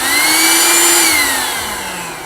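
A Vaclife VL189 cordless handheld vacuum runs close up with a loud, steady motor whine and airflow roar that holds for the whole stretch, easing slightly near the end, with no talking.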